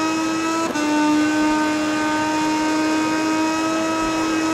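A Moto2 racing motorcycle at full throttle in the MotoGP 20 game holds a loud, steady high-pitched engine drone, with a brief dip from a quick gear change near the start before the pitch keeps climbing.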